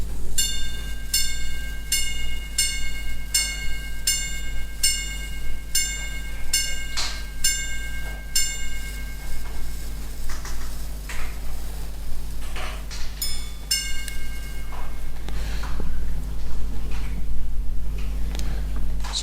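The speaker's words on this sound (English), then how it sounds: "there we heard a number of strokes for the hour, and then we heard a ting-tang kind of sound" A quarter repeater watch chimes a rapid series of bright, high tings for the hour, pauses, then rings a shorter run of two-tone ting-tang notes over a low steady hum of the spinning wheel train.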